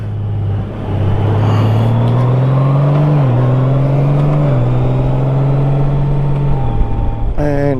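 A Honda Goldwing motorcycle engine accelerating hard, loud and close, the drone climbing in pitch through several gear shifts with brief dips between them, ending at a steady high revving note.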